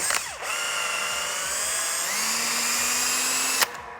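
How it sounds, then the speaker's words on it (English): A power drill fitted with a rubber eraser wheel, used for removing pinstripes and stickers from a car, whirs steadily as the wheel grinds against a surface, a continuous high whine that shifts pitch midway and cuts off near the end. "This is a rubber wheel for removing like pinstripe off your car or stickers and stuff. Just put it on a drill."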